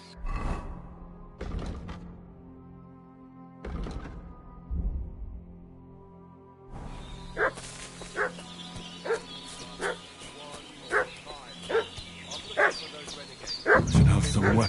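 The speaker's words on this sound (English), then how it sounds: "What's that dog making such a fuss about?" A dog barks in Kingdom Come: Deliverance II, first a few isolated barks, then a steady run of evenly spaced, fairly loud barks with a voice speaking over them.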